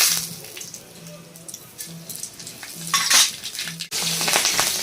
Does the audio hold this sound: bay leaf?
yes